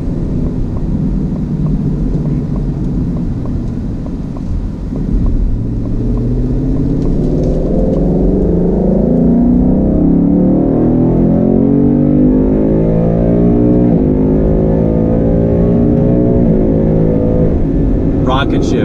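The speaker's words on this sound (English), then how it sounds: "You can hear the blipping as I'm going down the gears" Engine of a 2019 Ford Mustang GT Performance Pack, loud and close, rising and falling in pitch through repeated gear changes with throttle blips, the tone sweeping up across the run with a steady dense roar.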